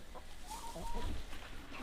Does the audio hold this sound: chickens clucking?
yes